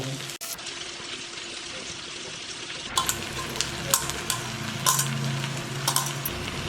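Cooked rice for tawa pulao is sautéed on a tawa with butter and vegetables, giving a soft sizzle broken by a series of sharp scraping and tapping strokes of the spatula against the metal.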